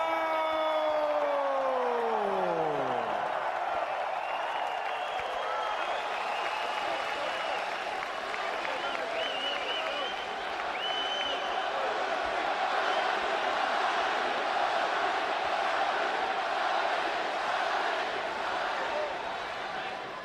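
A boxing arena crowd roars and cheers for Manny Pacquiao, a sustained loud wash of voices and applause with a falling horn-like tone at the start, continuing unbroken for about twenty seconds.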